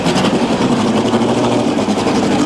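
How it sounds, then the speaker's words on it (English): Race car engines start and idle together on the grid before the Bathurst 1000, a loud, dense, steady rumble of many engines close by, with no talk. "Gentlemen, start your engines."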